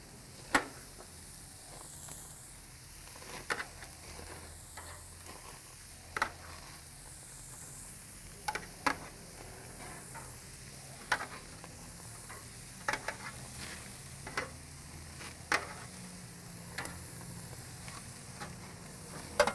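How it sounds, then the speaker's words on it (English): Steady sizzling hiss of food frying on a hot grill over fire, with occasional sharp pops and clicks, continuous and fairly close. "You can hear them sizzling as I'm putting them on."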